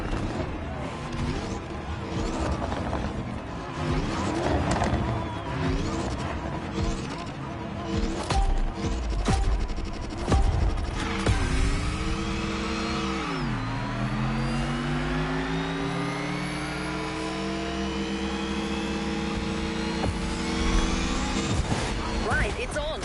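Race cars in a racing video game rev and accelerate continuously, engine pitch sweeping up and down through gear changes, with a loud passing roar midway; a voice talks over the engines at times.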